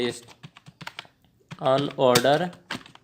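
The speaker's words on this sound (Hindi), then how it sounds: "यहाँ पे मैं लिखता हूँ अनऑर्डर" HTML code being typed on a computer keyboard, with a run of crisp, close keystrokes, then someone speaking over a few more taps.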